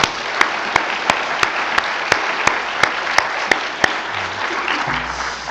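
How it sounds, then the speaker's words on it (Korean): A church congregation at a Thanksgiving service claps in rhythmic unison, sharp regular beats, then the clapping fades into scattered applause and murmuring. "하나님께 영광의 박수를 한번 올리시겠습니다."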